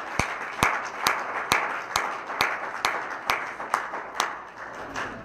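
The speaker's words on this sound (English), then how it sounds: "Help me give student minister Aisha and student minister Khalil a round of applause for their opening words." An audience answers opening words by two student ministers with a round of applause in a rhythmic unison clap, about a dozen sharp, evenly spaced beats over lighter scattered clapping.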